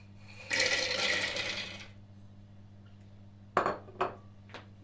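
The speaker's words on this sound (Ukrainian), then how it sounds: "Висипаємо горіхи наші." A handful of nuts rattles into the plastic bowl of a kitchen food processor in a brisk close pour lasting over a second, then a few sharp clinks and taps follow in a quiet room.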